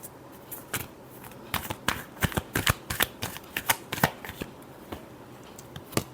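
A deck of tarot cards gets shuffled close up, with quick riffling snaps and papery flicks in irregular bursts at low volume, alone without talk.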